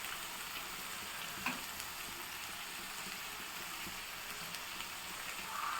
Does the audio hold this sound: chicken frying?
yes